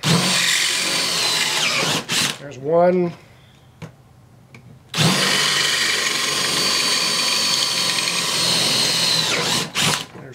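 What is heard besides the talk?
power drill drilling holes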